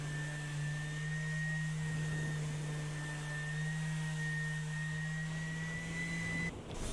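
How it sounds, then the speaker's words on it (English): Orbital sander with 80 grit paper working over wooden balcony posts and railings, a steady droning whir that holds without a break for several seconds and then cuts off. "Just run over it with the orbital with 80 grit is enough."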